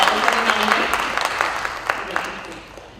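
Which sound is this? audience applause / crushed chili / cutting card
audience applause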